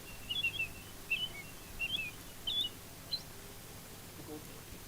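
A person whistles an imitation of an American robin call, a faint string of four or five short rising and falling chirps spaced evenly over quiet background.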